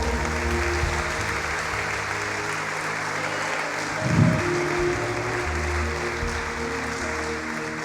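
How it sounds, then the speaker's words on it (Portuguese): Church congregation applauding during a service: a broad, sustained wash of many hands clapping at an even level, blended with steady sustained musical tones underneath. "Você pode dar uma salva de palmas ao Senhor?"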